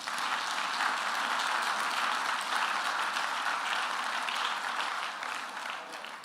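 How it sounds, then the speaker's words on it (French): A church congregation applauds the Lord in a steady, dense wave of clapping that fills the room, loud and sustained throughout before easing slightly at the end. "Si tu es d'accord, ça acclame le Seigneur."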